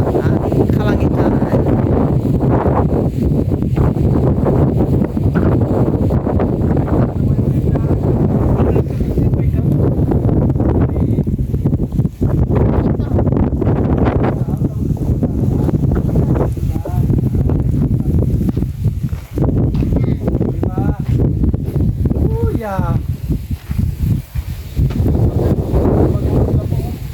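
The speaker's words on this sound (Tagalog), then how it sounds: "Oh my gosh, ang hangin." Strong wind buffets the microphone outdoors near a house in the Philippines, a loud continuous gusty rumble that rises and falls, with a person talking throughout.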